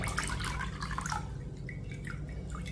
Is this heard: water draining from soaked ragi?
yes